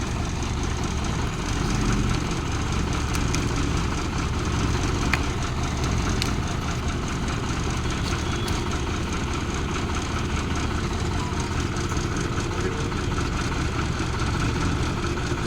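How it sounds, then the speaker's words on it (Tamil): A vehicle's engine rumbles steadily and close as it slowly drives up onto an Ajay PVC pipe during a weight-load test, with a continuous low idle-like drone throughout. "பிவிசி பைப் மேல வண்டி ஏற தொடங்கிருச்சு"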